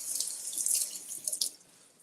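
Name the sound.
tap water rinsing green onions in sink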